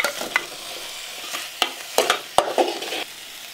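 Steamed chicken stirred and frying in a pan for a chicken thali, with a soft steady sizzle broken by several sharp scraping strokes of a spoon against the pan, close and clear with no talking.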